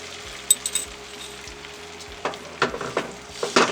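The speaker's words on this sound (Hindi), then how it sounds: "इसको मैं पहले फ्राई कर लूँगी" Lightly beaten egg fries in hot oil in a pan with a steady close sizzle, joined by scattered clinks and scrapes of a spoon against the pan toward the end.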